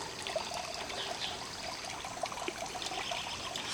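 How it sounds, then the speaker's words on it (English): Water trickles steadily from a cherub garden fountain, a soft, continuous splashing and dribbling at close range, fairly quiet and heard alone without talk. "This is our cherub fountain."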